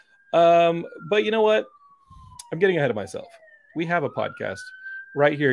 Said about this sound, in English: That siren, if you hear it in the background,